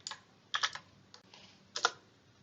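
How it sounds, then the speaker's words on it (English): Someone types a command on a computer keyboard while setting up a virtual machine: three short bursts of quick key clicks, close and fairly soft, separated by brief pauses, with no talking. "Type ipconfig"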